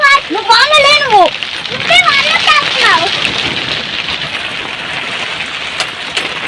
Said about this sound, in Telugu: ఇక వాన అయితే బాగుంది